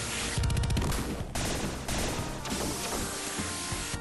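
Rapid gunfire and crashing impacts from the Sega Genesis game Shinobi III: Return of the Ninja Master, a dense, loud fusillade of shots bursting over game music with no talking.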